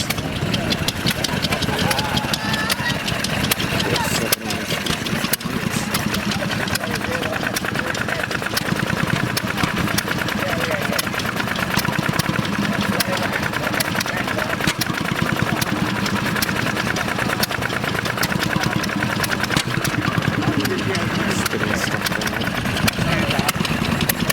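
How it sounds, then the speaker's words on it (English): New diesel pumps running at a railway gala, giving a steady, close, knocking idle drone throughout while people talk nearby. "New diesel pumps."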